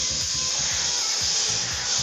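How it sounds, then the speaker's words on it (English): Spray paint hissing from a can onto panda miniatures, a loud, continuous close hiss that stays steady throughout, with a faint low rhythmic sound underneath. "Spraying down some panda bears, yes sir."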